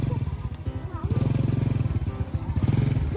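A motorcycle engine revs repeatedly in close, pulsing bursts while a voice shouts urging commands over the engine.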